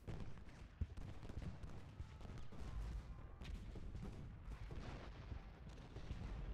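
Artillery and musket gunfire from the Gettysburg battle in the Ultimate General: Gettysburg video game, a dense continuous rumble of booms and crackling volleys with no speech.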